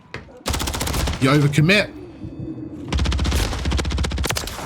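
Gunfire from Call of Duty, loud rapid bursts of automatic shots in two main stretches, with a voice speaking briefly between them.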